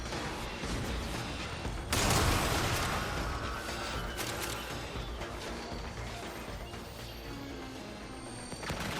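Arc gun explosions in the video game Warframe: a sharp blast near two seconds, then continuous crackling, rumbling combat noise with further bursts throughout.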